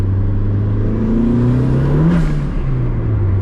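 A car engine revs hard under way, a loud, close, buzzing drone that rises and dips in pitch over a rumbling road roar, with a brief swell near the end.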